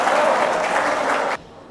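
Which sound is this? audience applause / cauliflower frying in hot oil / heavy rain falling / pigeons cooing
audience applause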